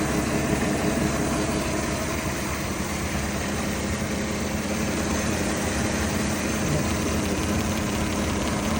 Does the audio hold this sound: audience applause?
no